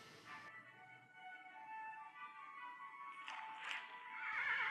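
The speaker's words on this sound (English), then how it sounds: "I fly out of the house and leap onto my horse." A horse in the video game Princess Sissi gives a clear, fairly faint whinny with soft hoof clops, heard alone with no talk.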